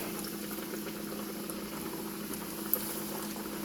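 A breaded milanesa cutlet frying in hot oil at around 350 degrees gives a steady, even bubbling hiss throughout, close and constant, with one small sharp pop near the end.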